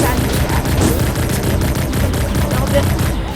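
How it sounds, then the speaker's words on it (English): Rapid, continuous gunfire from a gun in a Roblox video game, a loud dense stream of shots over about three seconds with a voice talking over it. "So you get your gun and you can shoot the opponent dealing damage too."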